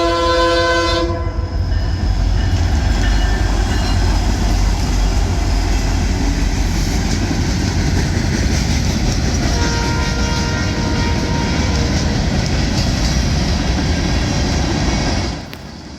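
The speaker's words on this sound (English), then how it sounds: "This train was at a crawl as due to a speed limit or a speed zone at milepost 579." A freight train led by an SD60 locomotive passes slowly, opening with a loud horn blast, then a heavy close rumble with wheel clatter that holds steady before dropping off at the end.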